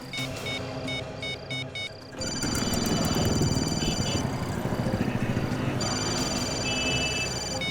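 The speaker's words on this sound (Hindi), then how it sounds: "फोन की घंटी अंदर ही बज रही है।" A phone ringtone chirps in repeated bursts while a loud engine rumbles and traffic noise fills the background.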